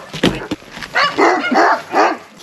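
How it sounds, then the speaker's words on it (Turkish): Several dogs bark in short bursts at a moderate distance, with a few sharper yips early on and brief noises around them. "çok köpekler var."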